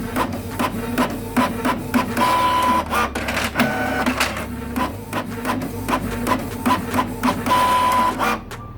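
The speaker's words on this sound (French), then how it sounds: "tu cherches tout simplement imprimer les bordereaux d'emballage" Packing slips run through a printer, giving loud close mechanical whirring with repeated rhythmic clacks and feed pulses throughout, and no talking.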